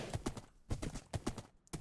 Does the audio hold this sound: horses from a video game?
yes